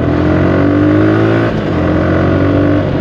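A Suzuki Gixxer 150 motorcycle engine revs steadily and loudly up close. The tone climbs slightly, dips briefly midway, then holds, with no talking over it.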